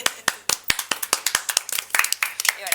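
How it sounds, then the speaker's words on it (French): A few people applauding in a restaurant, sparse uneven claps close by that tighten into a quicker patter midway and then thin out. "Applaudissements."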